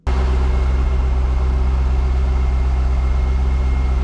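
A C5 Corvette engine starts and settles into a steady, loud idle, its low rumble continuous and close throughout.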